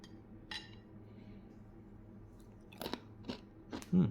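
A few crisp crunches of Australian combat ration food being bitten and chewed, spaced apart against a quiet background.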